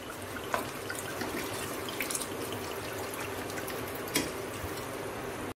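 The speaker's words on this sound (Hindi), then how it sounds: "थोड़ा सा भूनने के बाद पानी डाल रही हूँ मैं।" Water is poured into a pan of lightly roasted petha, producing a steady close-up hiss of sizzling and splashing that runs continuously for several seconds, with a few sharper spits and crackles.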